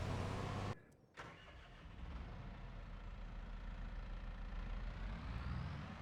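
Tractor engine in Farming Simulator 22 cranking over and catching after a brief break, then settling into a steady low rumbling idle, close and alone.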